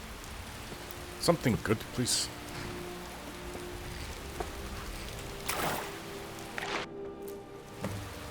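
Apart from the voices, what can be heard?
rain in a video game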